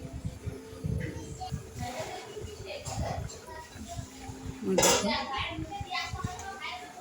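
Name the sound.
lid being placed on cooking pot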